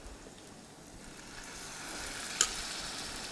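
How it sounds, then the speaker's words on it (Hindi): Snack batter drops into hot oil over a high gas flame, building into a steady, close sizzle and crackle, with one sharp tick partway through; no one speaks. "गैस के फ्लेम को हाई रख के गर्म तेल में ही इसे, हॉट ऑयल में ही इसे नाश्ते को डालना है"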